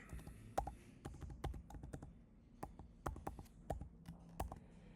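Quiet, irregular clicks of fingers typing a password on a computer keyboard, short keystroke bursts with brief pauses in between.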